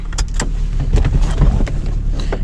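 A slow power window motor whirs and strains with rough, uneven mechanical noise in a high-mileage Toyota Camry from around twenty years ago. The sound is close and fairly loud, with some knocks.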